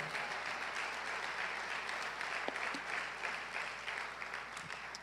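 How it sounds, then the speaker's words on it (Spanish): A church congregation bursts into loud, sustained applause, a dense, even wash of clapping that holds steady for several seconds with no talk over it. "dele fuerte ese aplauso al Señor"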